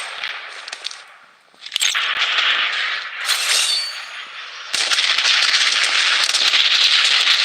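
Rapid gunfire rattles in Blood Strike Battle Royale, loud close bursts in sustained strings with a brief lull, then continuous heavy shooting, no talking heard.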